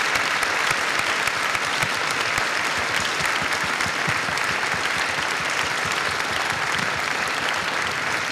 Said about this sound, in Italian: chiedo al pubblico in sala di alzarsi in piedi e di tributare non un minuto di silenzio, ma un caloroso applauso